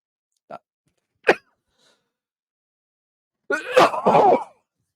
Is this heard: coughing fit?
yes